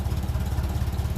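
A 1957 Ferguson 35 tractor on TVO fuel runs slightly too rich, its engine chugging in a steady, close, low rhythmic throb with a faint clatter on top.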